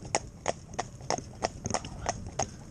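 A cob horse, formerly a driving horse, walks on a hard surface with steady, evenly spaced hoof clip-clops, crisp and close, about three per second, with no talking.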